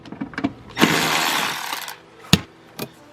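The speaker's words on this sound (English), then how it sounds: "Let's get this bolt out right here." A power tool spins out an interior bolt on a BMW E30 during disassembly, a close whirring burst of about a second, followed by a few sharp metallic clicks and knocks with no talking.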